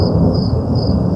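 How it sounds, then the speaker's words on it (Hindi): Thunder rolls through a rainstorm outside a forest rest house at night, a continuous deep rumble with the hiss of rain, loud and steady for a brief moment. "बादलों की गड़गड़ाहट और बारिश शुरू हो गई थी।"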